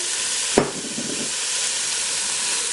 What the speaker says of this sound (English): And we're going to give it a quick stir.